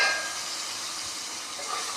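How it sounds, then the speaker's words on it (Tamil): Onions sauté in a pan as the base for a sardine fish curry (mathi meen kulambu), giving a steady, soft hiss and sizzle with no talk. "நல்லா வெங்காயம் இதுக்கு நல்லா வதங்கணும்."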